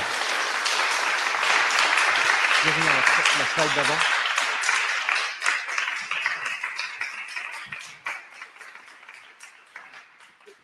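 An audience applauds a speaker after his talk on imagination in the city at the Building Beyond festival. Dense clapping starts loud, a voice speaks briefly through it, and the applause thins and fades toward the end.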